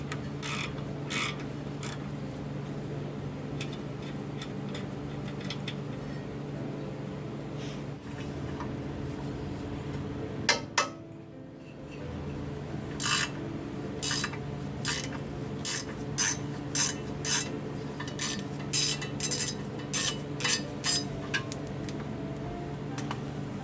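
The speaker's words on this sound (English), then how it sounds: "The two fasteners holding on the lower ball joint actually come off pretty easy" Ratchet removing the lower ball joint fasteners on a Range Rover L322, close-up bursts of rapid clicking pawl strokes with a clunk and short pause midway, then more quick ratcheting runs.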